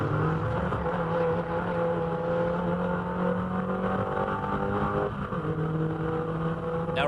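A MINI Challenge race car at Wakefield Park is pushed hard through fast left and right corners, its engine a continuous loud drone that shifts pitch as it works through the bends.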